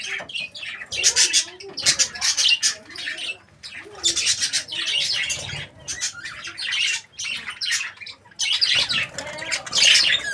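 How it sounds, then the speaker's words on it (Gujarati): A caged pet pigeon mingles with other small birds, with bursts of squawking, chirps and wing flutters repeating through the stretch at close range and a soft coo-like undertone. "કબૂતર."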